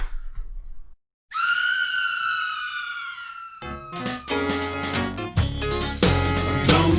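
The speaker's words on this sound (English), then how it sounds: "Don't scream, it's only Halloween." A single long, high Halloween scream rings out loud and close for about two seconds, then cuts into busy musical sound.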